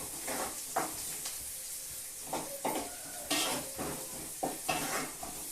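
Onion frying in a pan for crab curry gives a soft, steady sizzle, broken by several distinct scrapes and clinks of a spatula stirring against the pan.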